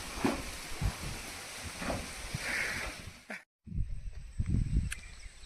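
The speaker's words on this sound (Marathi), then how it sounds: "पावसाचं आगमन झालेलं आहे" Rain falls on a damp roadside in a steady soft hiss with scattered low thumps, close by and moderate, breaking off into a brief silence before resuming with louder patter.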